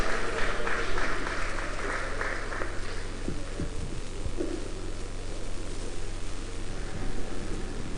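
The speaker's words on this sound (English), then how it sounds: "Please, can we clap, put our hands together for our timekeeper." An audience at a Christian youth forum claps together in a steady burst of applause, loud at first and then thinning out, over a low room hum.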